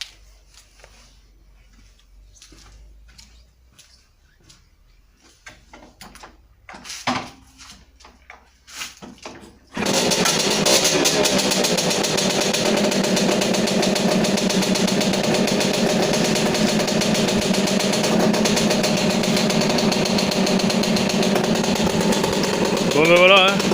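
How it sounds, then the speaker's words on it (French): Lem LX4 motorbike that hasn't run in a while starting after some quiet fiddling and clicks, then its small engine catching and running loudly and steadily, a buzzy high-revving drone close by. "maintenant on va essayer de la démarrer"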